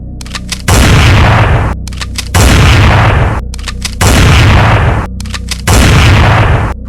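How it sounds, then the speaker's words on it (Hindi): Four heavy gunshot blasts from a sound effect, loud and booming, each with a long rolling tail that fills the gap before the next shot, spaced roughly evenly with no voices. "उन्होंने 4 राउंड फायरिंग करी।"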